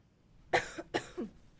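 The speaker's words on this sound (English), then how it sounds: "Coughing." Two close coughs, slightly rough and throaty, about half a second apart, heard in a quiet room during a horror video game session.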